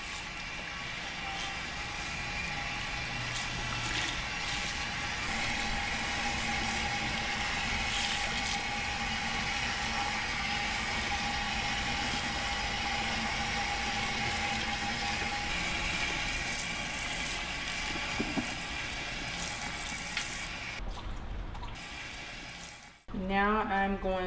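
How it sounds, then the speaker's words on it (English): Running water from a tap rinses conditioner out of type 4 natural hair before a silk press, a steady continuous wash of splashing flow that holds throughout before stopping abruptly near the end. "So to rinse the conditioner, you can use cool to lukewarm water."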